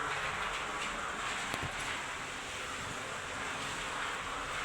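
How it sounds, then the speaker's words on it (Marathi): Rain pours steadily outside a house, a dense, even rushing wash that fills the whole stretch without a break, fairly loud and close with no voices. "बघा मस्त पाऊस चालू आहे"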